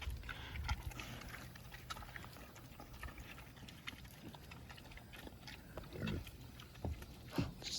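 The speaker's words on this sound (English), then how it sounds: "Pigs don't care. Flinging it everywhere." Pigs eating watermelon and flinging it around, with faint wet chomping, squelching and scattered thuds at low level, no talking.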